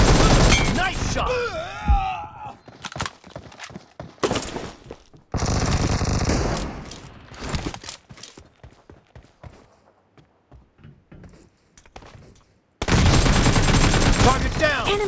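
Bursts of rapid gunfire from a shooting video game, loud volleys broken by quieter gaps with scattered shots and game effects, ending in a sustained loud stretch.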